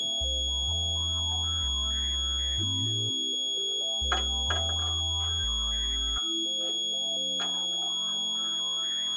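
A steady electronic satellite dish alignment tone holds throughout, with low stepped pulses beneath that shift in pitch and pause, plus a few brief clicks.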